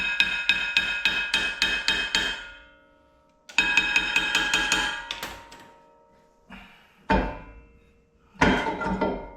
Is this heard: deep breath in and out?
no